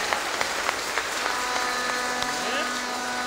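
A church congregation claps at a service, a steady wash of hands with a few sharper claps standing out, under a sustained tone and some background voices.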